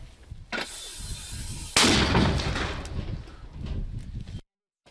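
A mortar battery firing: a sharp blast near half a second, then a louder, heavier boom at under two seconds with a long rolling echo that fades before cutting off, with a voice in the background.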